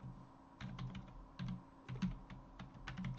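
Quick bursts of keystrokes on a computer keyboard, names being typed in uneven clusters of close, crisp taps with short pauses between runs, no voices over them.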